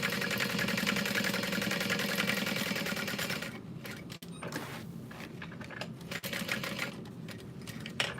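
A sewing machine stitching down the edge of a bag, running in a steady fast rapid-fire stitch that eases and slows partway through, with small clicks as it pauses and restarts, heard close up with no voices.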